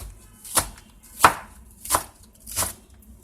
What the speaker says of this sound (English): Next up, we're going to chop the leeks.